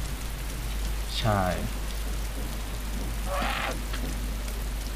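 Steady rain falls across the whole scene in the video game ARMA II DayZ, a constant dense hiss with two short voice bursts speaking over it.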